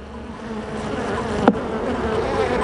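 Honey bees buzzing in an opened hive, a continuous close droning hum with one bee zipping sharply past mid-way.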